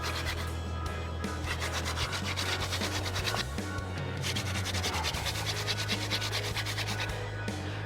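A wooden hand drill spindle is spun hard against a fireboard to make a friction fire, giving a continuous fast rubbing and grinding with a rapid back-and-forth rhythm, close and steady throughout.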